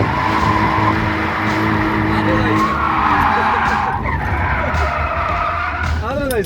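Car drifting on a track, engine revving hard under heavy throttle with tyres skidding and squealing continuously throughout, loud and close, while people talk over it.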